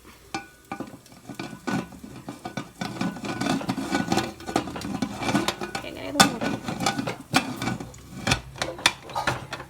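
A pressure cooker lid is set on and closed in a home kitchen, metal clanks and scrapes sounding in irregular bursts of clatter, near and moderately loud, with a faint sizzle beneath.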